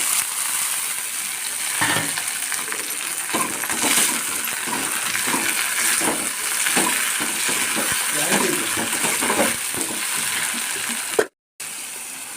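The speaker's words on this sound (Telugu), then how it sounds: "ఉల్లగడ్డలు వేస్తున్నాను చూడండి ఫ్రెండ్స్" Onions frying in a pan in a village kitchen, a loud steady sizzle with scattered clicks and scrapes of stirring, then a brief dropout near the end; no talking.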